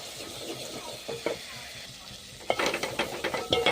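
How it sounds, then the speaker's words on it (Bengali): Ground spices, tomato, salt, saffron, chilli powder and roasted coriander and cumin powders sizzle in a pan for ghugni, with steady frying hiss and a run of close scraping stirs growing louder toward the end. "ভালো করে মশলাটা কষিয়ে দেবো।"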